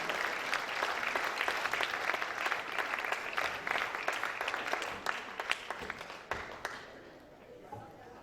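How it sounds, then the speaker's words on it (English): Round of applause from an audience, many hands clapping at a steady level that slowly thins out and fades toward the end. "let's give the round of applause to both of them today"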